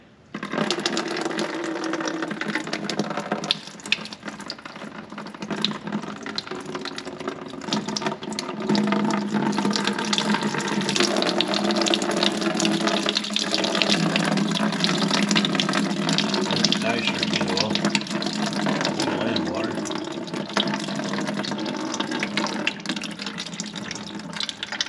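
Water runs out of the fuel system of a Case 1070 tractor, a steady trickling and splashing stream that continues without a break, with talk over it at times.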